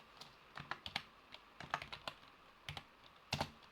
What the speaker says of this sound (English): Just going to type in the name